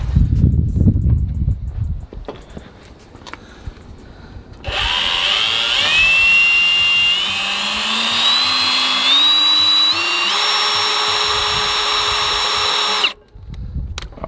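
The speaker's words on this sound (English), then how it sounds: "we're going to drill right through." A power drill whines steadily for about eight seconds, pitch rising slightly as it bores through a lawn mower deck, loud and close, with quieter handling noise before and after.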